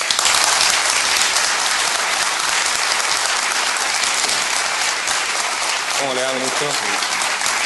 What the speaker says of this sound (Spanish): Un aplauso para el ministro